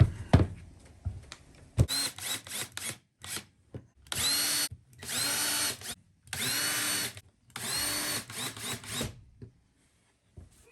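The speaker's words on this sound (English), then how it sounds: "And now I'm going to screw these in, praying they do not split." Power drill driving screws into bamboo flooring inside an RV, heard as a series of close, loud whirring bursts of a second or so each, separated by short pauses, with no talking.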